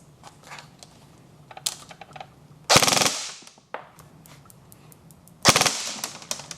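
An ECHO 1 XCR airsoft rifle running on an 11.1 V LiPo battery fires two loud, close full-auto bursts of BBs, each lasting about half a second, with light mechanical clicks and handling noises in between.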